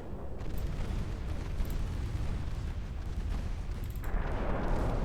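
Heavy naval gunfire from battleships in Ultimate Admiral Dreadnoughts makes a steady, loud wall of booming explosions and rumbling blasts that runs unbroken, with a brighter, louder crack near the end.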